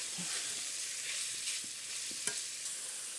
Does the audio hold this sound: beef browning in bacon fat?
yes